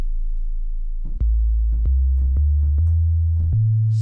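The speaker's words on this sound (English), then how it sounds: "there's that standard S sine wave." Deep synthesizer sine-wave bass notes in FL Studio or Reason step through a short sequence, each pure low tone held briefly with a soft click at the changes.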